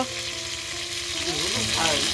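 Fish fries in a black iron wok with a loud, continuous sizzle that holds steady and swells slightly toward the end of the short stretch.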